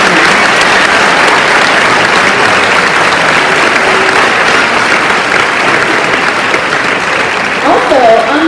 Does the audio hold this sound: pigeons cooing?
no